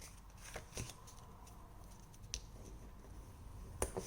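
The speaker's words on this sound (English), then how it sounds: "score it at 6 inches. And then fold it in half." Cardstock scored at six inches and folded in half for a handmade shaker card, heard as dry paper scrapes, creases and a few sharp crackles at close range with no talking.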